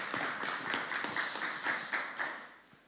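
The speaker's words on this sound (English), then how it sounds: "Should we give him a round of applause?" A church congregation at a Sunday service claps in a brief round of applause, steady overlapping claps that taper off toward the end.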